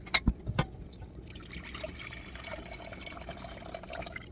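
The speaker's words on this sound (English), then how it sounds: "we are going to pour all this liquid back to the saucepan" Tomato marinade liquid is poured back into a saucepan in a kitchen, a faint steady trickle and splash after a few quick clinks at the start.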